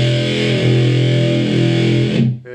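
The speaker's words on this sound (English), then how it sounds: "There's the classic Uni-Fuzz Destructo tone." De-buzzed 1960s Uni-Fuzz pedal in its scooped Destructo tone, a loud, thick, sustained distorted guitar chord with gritty harmonics that rings out and then cuts off abruptly near the end.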